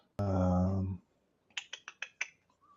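Keys tapped on a computer keyboard: a short hummed vocal tone comes first, then five or six crisp, separate clicks in quick succession, close and fairly quiet.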